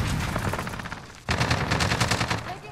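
Automatic gunfire in Modern Warfare, heard as a rapid, continuous rattle of shots that breaks off for an instant at about 1.3 seconds and then resumes louder, with no talking over it.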